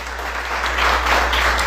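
A church congregation claps steadily in praise during a pastors' and workers' meeting, a dense, sustained wash of applause with a low hum underneath and no speech.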